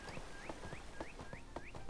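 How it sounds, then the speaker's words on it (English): Chickens in the video game ArcheAge cluck in a steady repeating pattern, with short rising calls about twice a second, fairly close and loud over a constant game ambience. "This guy's playing with chickens."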